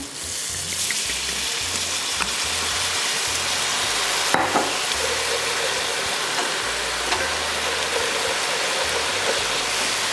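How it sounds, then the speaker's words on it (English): A chicken pan deglazed with Marsala wine gives off a loud, steady hiss of sizzling liquid, dense and constant from start to finish, with one brief clink partway through. "we're about to bring that flavor out right now. Marsala wine."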